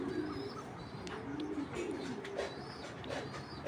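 Racing pigeons coo in soft, repeated throaty burbles close by, over a busy background hiss with faint chirps.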